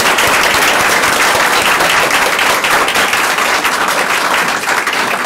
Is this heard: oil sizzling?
no